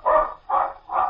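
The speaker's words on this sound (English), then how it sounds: "Black and white water spaniel roaming in the brush suddenly springs out on the sand and, plumed tail aloft, rushes off the beach" A black and white water spaniel barking in a radio drama scene on a beach, three short, loud barks evenly spaced and close, with nothing else audible.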